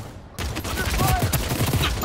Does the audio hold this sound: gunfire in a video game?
yes